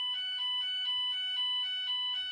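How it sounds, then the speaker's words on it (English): A GENT Vigilon fire alarm sounds indoors, a loud buzzer pulsing in a fast repeating two-tone pattern with the sounder beneath it, steady and close, with no talking. "The buzzers in Vigilons are really loud. You can barely hear the sounder over the buzzer sometimes."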